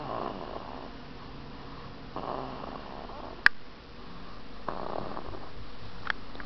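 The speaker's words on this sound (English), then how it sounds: "She can make noise when she sleeps." A baby girl snores softly while sleeping on her father's tummy, slow rhythmic breathy rumbles repeating at close range, with one sharp knock partway through and no talking.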